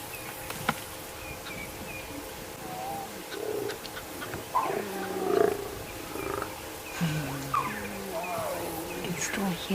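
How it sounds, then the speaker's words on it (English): At sunset on a safari drive, lion cubs make soft begging mews and whines while a lioness snarls and growls at them, low and fairly faint over a steady hum of insects and occasional bird calls. "You can still hear them begging, and the lioness is snarling at them."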